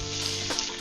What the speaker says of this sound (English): Okay, steak is going in.